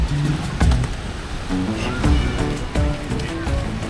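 Ocean waves at Copacabana beach in Rio de Janeiro, a continuous washing surf with surging swells and splashes, close and fairly loud.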